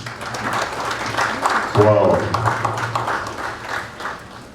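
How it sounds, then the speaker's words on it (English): Crowd clapping at an e-government technology event runs steadily throughout, fairly loud, with a voice exclaiming briefly over it. "let's give a round of applause one more time"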